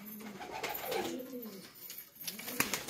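A pigeon recovering from illness gives soft, low cooing calls in short repeated phrases. The calls are close but quiet, with no talking.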